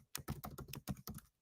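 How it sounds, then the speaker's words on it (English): Quick run of keystrokes on a computer keyboard, about ten close, crisp taps in an uneven burst, heard alone with no talking. "I'm typing it in right now"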